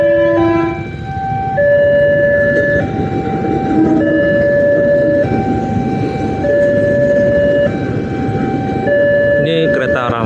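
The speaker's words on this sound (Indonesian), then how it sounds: "Ini kereta arah mana nih ya?" A train passes at the Parung Panjang railway crossing in Indonesia, a loud steady rumble of railcars under the crossing's repeating two-tone warning signal, sustained throughout.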